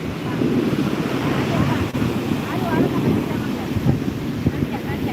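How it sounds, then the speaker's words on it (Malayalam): Big sea waves break and surge continuously on Vettukad beach, a loud, steady roar of surf with heavy wind buffeting the microphone throughout. "വലിയ വലിയ തിരമാല ഇടയ്ക്കിടയ്ക്ക് വരുന്നുണ്ട്"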